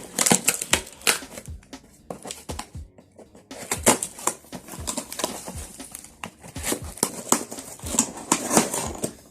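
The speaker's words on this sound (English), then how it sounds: "Let's go ahead and cut open the top portion." Knife cutting open the top of a cardboard package holding an OUKITEL C17 Pro phone: a close run of sharp scratchy slicing and crinkling taps, with a brief pause partway through before the rapid cutting resumes.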